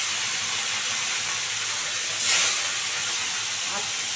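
Fish head frying in hot oil, a continuous close steamy hiss with a brief louder sputter near the middle, under no clear talk.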